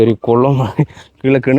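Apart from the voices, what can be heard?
No everyday noise stands out behind the speech.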